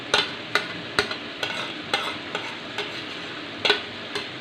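Yogurt mixed with ground black pepper being stirred into mutton for a black pepper mutton dish, a close wet scraping with regular sharp clicks of the spoon against the pot over a steady low sizzle.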